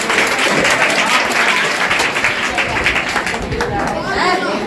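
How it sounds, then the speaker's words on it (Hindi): A crowd at a school general-knowledge competition applauds loudly and continuously, with a thick wash of clapping and background chatter throughout. "जोरदार तालियां के लिए होनी चाहिए"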